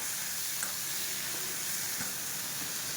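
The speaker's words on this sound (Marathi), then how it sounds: "छानपैकी हा ठेसा आपल्याला तेलावरती भाजून घ्यायचा आहे" Traditional Maharashtrian chili thecha sizzles as it fries in hot oil, a steady close hiss with occasional soft stirring scrapes, no voices.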